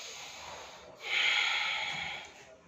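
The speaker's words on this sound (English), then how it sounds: "Inhale and exhale. Breathing is also very important." A slow, deep breath during a Surya Namaskar yoga session, a soft airy inhale swelling into a louder, longer exhale, close and alone.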